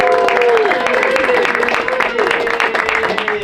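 Loud, close audience applause with cheering and whooping at a comedy show as a comedian comes to the stage, a dense steady wash of clapping with raised voices over it.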